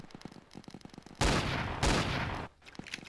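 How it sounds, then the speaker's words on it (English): Two heavy shotgun blasts from the starter shotgun in the video game Zeppelin Wars, loud and close, each with a long decaying boom, separated by about half a second, with quieter game sounds before and after. "It has 75 range, 8 ammo, and yeah, that's the shotgun."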